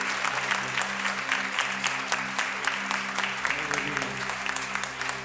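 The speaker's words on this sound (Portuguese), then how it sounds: "Você pode aplaudir bem forte." A church congregation applauding hard, with dense, steady clapping that continues throughout, loud and close, while a low sustained organ or keyboard chord hums underneath.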